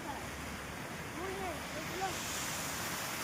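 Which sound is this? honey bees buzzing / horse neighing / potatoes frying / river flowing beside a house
river flowing beside a house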